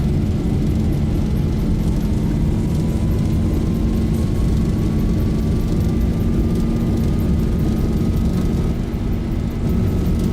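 Airliner jet engines at takeoff thrust in a flight simulator, Boeing 737 Zibo mod, a loud steady roar with a deep low rumble and a slowly rising whine, continuous for the whole stretch with no talk.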